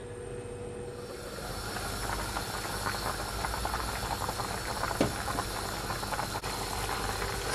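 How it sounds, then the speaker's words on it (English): Jamaican stewed goat meat boiling in a half-covered pot, giving a steady, continuous bubbling simmer that stays at an even level throughout with no talking. "I half cover my pot so it doesn't boil over"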